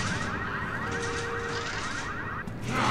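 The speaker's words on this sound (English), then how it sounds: "That alarm is probably just going to keep drawing in more and more zombies" A wailing car alarm blares in Resident Evil 6, its rapid warbling tone repeating steadily and loud through the whole stretch, cutting out near the end as a swell of other noise rises.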